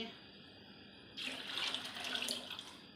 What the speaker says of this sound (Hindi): देखें अब इसमें मैं और पानी डाल के